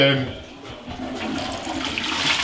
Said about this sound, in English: it works, it flushes